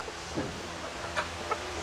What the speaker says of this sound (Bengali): আর এখানে আছে আমাদের এগুলো হইলো সোনালি মোরগ